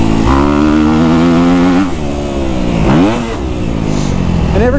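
A Kawasaki KX250F four-stroke dirt bike engine revs loud and close, its pitch rising and falling through several throttle blips and shifts, with engine braking between pulls and no talk over it.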